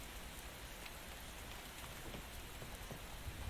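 Steady rain falls in the video game La forêt maudite, a soft, even patter of drops with no voices over it.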